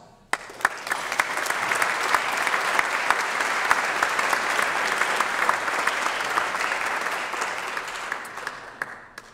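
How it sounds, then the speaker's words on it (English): Audience at a small business recognition awards ceremony claps for veterans, a dense round of applause swelling after a few sharp claps, holding steady, then tapering near the end. "give us a round of applause"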